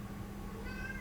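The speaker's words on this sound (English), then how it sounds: "I apologize for my cat because" A pet cat gives a single short, faint meow indoors, heard alone and barely above background noise.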